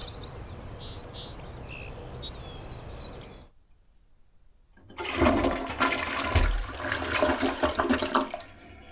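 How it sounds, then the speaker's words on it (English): A toilet in a tiny house on a septic system flushes with a loud, close rush of water and gurgling after a brief quiet pause, following a stretch of steady background hiss with faint bird chirps. "I officially have a flushing toilet that uses real water"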